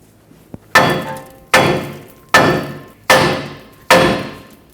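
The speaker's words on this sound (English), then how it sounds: "tap the knuckle with a hammer" A hammer strikes a steering knuckle on a 2003-2012 Chevrolet Colorado, five sharp metallic blows at an even pace, each ringing briefly, preceded by a faint small tap.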